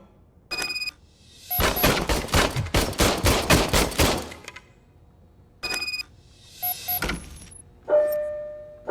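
Old service pistol in Robocop: Rogue City firing a rapid burst of about ten loud close shots, then a few scattered mechanical clicks and clunks with no further firing.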